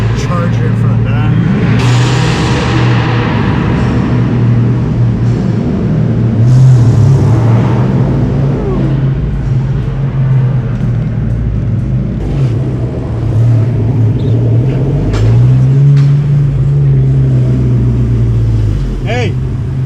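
A sleeper VW GTI lines up beside V8 cars, including a Charger, at a night street meet, engines idling and revving loudly nearby with rising and falling pitch, while people talk over the noise.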